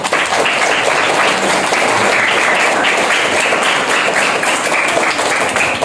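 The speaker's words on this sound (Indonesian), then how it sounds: "Tepuk tangan untuk para ketua kita." A hall audience at a student organisation inauguration at a modern tahfidz boarding school gives loud, sustained applause for the student leaders, with thick, steady clapping from many hands.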